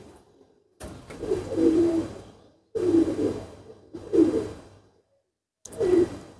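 Teddy pigeons coo close by in three separate bursts of low, throaty, rolling calls, with silent gaps between them.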